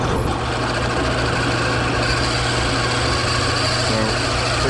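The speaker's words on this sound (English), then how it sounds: "Fortunately, this is aluminum, so it's pretty soft and easy to drill." A power drill whirs steadily and continuously while boring holes in the soft aluminium engine block of a Kayo MR150 dirt bike, a constant mid-level motor hum with no pauses.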